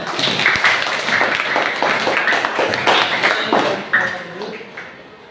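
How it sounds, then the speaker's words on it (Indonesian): A classroom group of students claps for the presenting groups, brisk hand clapping close by that swells and then thins out over a few seconds. "Kita tepuk tangan dulu untuk kelompok 1 sampai kelompok 6."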